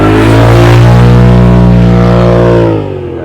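A UTV with a loud exhaust revs hard at Sand Hollow, a deep droning engine roar that holds high and close, then drops sharply as the throttle eases off near the end.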